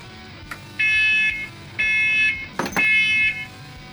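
A smoke alarm in a knifemaking workshop chirps in three short, bright electronic beeps, fairly loud and near, with a brief clatter between the second and third.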